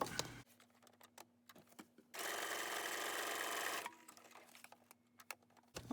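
A sewing machine runs one steady, buzzing burst of zigzag stitching through a folded magazine signature, framed by quieter clicks and handling noises, with no speech.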